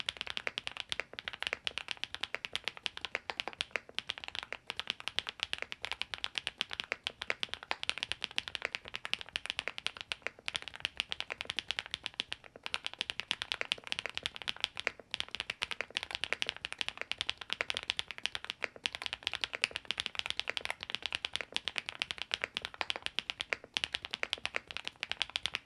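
Fast continuous typing on an SPM PL87W tenkeyless mechanical keyboard fitted with Mongdol switches and long springs, a close, even clatter of muted, deep key strokes with no talk.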